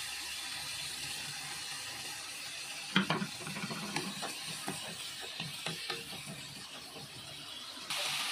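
Squid stir-fried with oyster sauce hisses steadily in the pan while a spatula clacks and scrapes in an irregular rhythm, up close and moderately loud.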